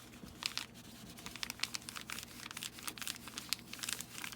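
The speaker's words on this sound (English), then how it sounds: "just a paper mailer. It's just got a cool sound to it." A paper mailer envelope crinkles and crackles as it is handled, in quick uneven bursts of close, crisp rustling over a quiet room, with no voices.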